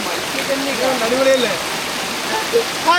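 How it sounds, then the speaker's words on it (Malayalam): A forest stream rushes through rubber plantation country near the Chengara Chirathitta Blappila waterfall, giving a steady, close rush of water with faint voice-like tones drifting over it. "വനത്തിൽ നിന്നും കുത്തി ഒലിച്ച് വരുന്ന ആറും"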